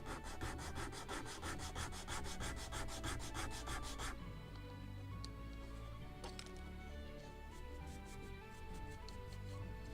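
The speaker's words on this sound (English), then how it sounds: "More of sanding." Wood on a 1776 gunboat Philadelphia scale model's gun carriage part is sanded by hand, a fast rhythmic rasping of quick back-and-forth strokes that turns into softer, scattered rubbing, close and fairly quiet.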